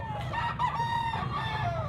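A medium-sized rooster at a chicken market in Carbon crows in a drawn-out, wavering call, nearby and moderately loud over a constant background hum of the market.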